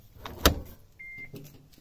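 A single sharp click of a relay as an adjustable J1772 Type 1 charger for a Nissan Leaf switches on, close and distinct against a quiet background, followed by a faint brief electronic tone.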